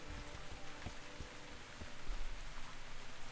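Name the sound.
rain in a video game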